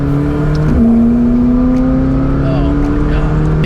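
A McLaren 600LT sports car engine revs and accelerates up close, its tone rising steadily and droning loudly throughout, with a brief dip near the start.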